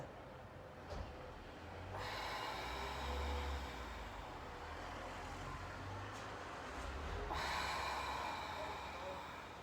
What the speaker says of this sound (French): la respiration est lente et profonde